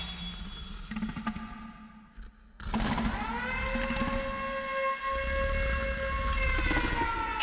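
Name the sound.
end-of-work siren in video game Killer is Dead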